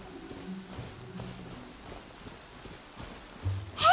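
Rain falls steadily and softly in a video game, a low continuous patter with a few faint thuds and a sharper sound rising at the very end.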